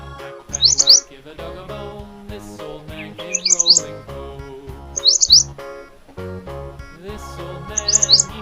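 A bulbul's chirping, heard as four short, bright bursts of high tweets that recur at regular intervals over a continuous musical backing.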